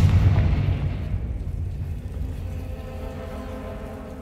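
Fire spell blast in the Hogwarts Legacy game, a loud, deep explosive boom with a long rumbling decay that fades gradually, with no voices over it.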